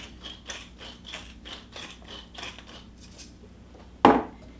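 A pepper mill grinding black pepper over a thick vegan butternut squash soup, with close, rhythmic ratcheting crunches for about three seconds, then a brief louder clack as the mill is set down.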